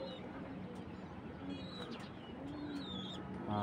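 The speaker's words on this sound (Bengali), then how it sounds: "সেই নটটা ডাকতেছে নিচে।" A male pigeon calls from below in a loft, its soft repeated coos sitting low and faint beneath steady background noise, with a few thin chirps from other birds.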